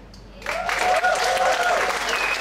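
Audience applause at a PechaKucha night event in Ubud, Bali, rising suddenly and staying loud and dense after a brief quieter start, with a few whoops and cheers threaded through the clapping.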